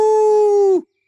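A cartoon character's voice imitates a male owl's call: one long, steady, loud hoo held for most of a second before cutting off into silence.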